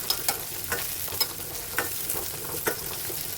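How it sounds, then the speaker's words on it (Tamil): Onions sautéing in a pan as the base for a Tamil fish curry, a steady close sizzle with repeated sharp scrapes and clinks of a spoon stirring every half second or so. "வெங்காயம் நல்லா வதங்கட்டும் இப்போ கருவேப்பிலை சேர்த்துக்கலாம்"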